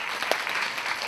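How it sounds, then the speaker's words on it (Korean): An audience at a mentoring talk concert applauds in a dense, steady clatter of many hands that fills the whole moment. "다시 한번 박수를 이어주시고"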